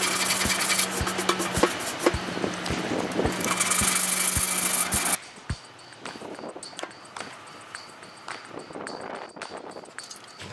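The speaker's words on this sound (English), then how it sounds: "I'm using a light rust and paint remover to scratch the tank for a mostly uniform and raw finish" An aluminium fuel tank from a 1986 BMW K100 cafe racer is rubbed with a rust and paint remover abrasive, a loud continuous rasping scrub that stops midway, leaving quieter scattered scratches and clicks.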